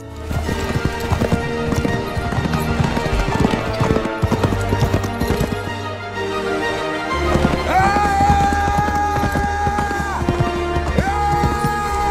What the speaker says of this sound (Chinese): 富二代骑着马，带着小美策马奔腾，踏过草原，越过树林